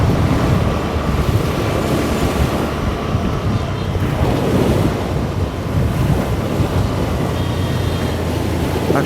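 Night surf on the sea at Daman rolls in as a constant roar of breaking waves, heavy wind noise rumbling across the microphone, loud and unbroken.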